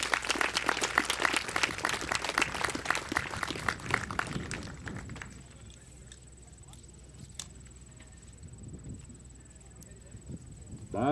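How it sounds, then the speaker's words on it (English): Applause for sheepdog handler Tom Wilson at the 2007 USBCHA sheepdog finals, a burst of outdoor crowd clapping that fades after about four seconds into quiet field ambience with a faint steady tone and occasional knocks. "A nice round of applause, please, for Mr. Tom Wilson."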